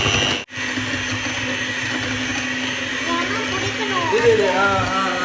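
An electric hand mixer on speed 3 beats vanilla sponge cake batter with a loud, steady, close whirring drone. The sound cuts out for a moment near the start, then runs on continuously.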